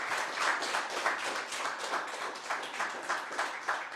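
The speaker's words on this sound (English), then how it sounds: "Just another round of applause." A lecture audience applauds after a talk by Ghislain Picard on reconciliation at Concordia, producing steady, dense clapping from many hands that holds at an even level throughout without any voices.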